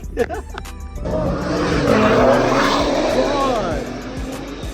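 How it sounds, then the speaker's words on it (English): A BMW M4 Competition G82 engine roars close up as the car accelerates hard, a loud sustained rising drone after a brief opening moment, with people talking inside the cabin. "Boy, let me drive his G80 real quick."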